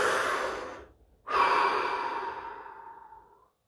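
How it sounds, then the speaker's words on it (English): A deep breath taken during a guided relaxation session: a long airy inhale, a brief pause, then a slow audible exhale that fades away, close and alone. "Deep breath."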